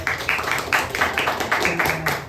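An audience claps in a quick, steady run of sharp hand claps lasting a couple of seconds, fairly close and moderately loud, with a low murmur underneath.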